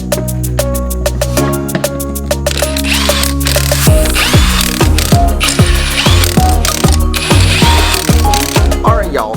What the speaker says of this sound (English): I'm gonna jack it back up and crank it a little more